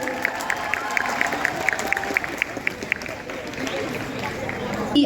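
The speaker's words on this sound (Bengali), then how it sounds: "জোরে একটা হাততালি হোক" An audience at a debating club's national debate festival prize ceremony claps in a steady, fairly close burst of applause with a crowd murmur underneath.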